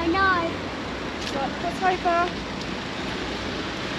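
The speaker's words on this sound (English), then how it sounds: "Oh my god, it's a big flood there" Floodwater rushing through a swollen river in Rye makes a steady broadband roar that runs the whole time, with people talking briefly over it.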